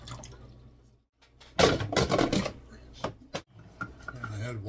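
Water poured into a container from a home tap, a brief close splashing rush lasting about a second after a short quiet pause, followed by a few clinks and light handling noises.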